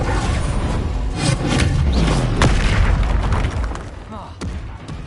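A Confringo blasting curse in a Harry Potter video game lands as heavy booming explosions with whooshing bursts, loud and close, rumbling over several seconds amid other spell effects.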